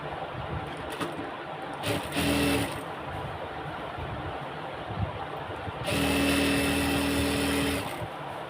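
Sewing machine stitching along the side of a pillow cover in two bursts, one short and one longer, steady whirring runs with quiet handling between them.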